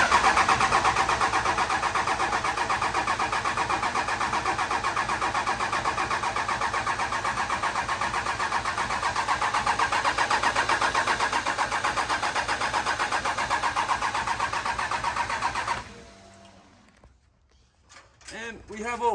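A 1500-horsepower plow truck engine roars loudly and steadily at close range for about sixteen seconds, then cuts out, leaving a few brief voices in the quiet.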